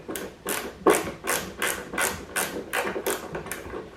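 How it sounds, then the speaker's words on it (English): Screws driven in with a screwdriver while assembling the handle of a Sunjoe 28 volt 14-inch lawnmower, heard as about eight regular ratcheting clicks in a steady rhythm, close and clear with no speech. "Now you just got to get the screws in here."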